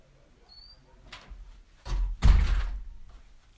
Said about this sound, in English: I'm just going to close the door because it is more noisy around here today